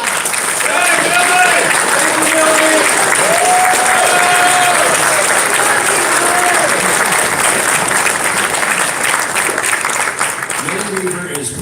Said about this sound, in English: I just want you guys to give yourselves a round of applause